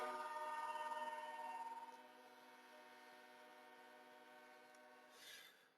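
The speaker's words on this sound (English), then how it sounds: "We have trains and traffic, cars honking" A distant train horn sounds a long sustained chord from outside a window in city traffic, fading into a fainter drawn-out tone, then a brief swell near the end.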